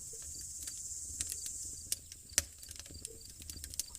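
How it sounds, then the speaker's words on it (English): Crickets chirp at night beside a campfire, a faint steady high-pitched trilling with scattered sharper clicks and pops mixed in, with no voices present. "There is no sound anywhere except the call of crickets."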